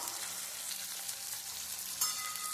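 Ingredients frying in a pan: a dense, even sizzle holds steady throughout, close and moderately loud, with one brief scrape near the end and no voices.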